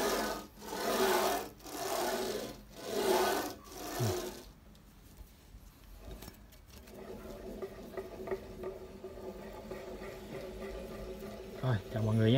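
A power drill bores holes to mount a sliding rail, with four loud rhythmic bursts close by, followed by a quieter steady whir and faint handling noise.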